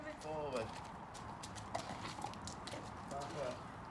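Horse hooves clip-clop on the ground in a field, irregular muffled steps under a constant outdoor background, with people talking nearby throughout.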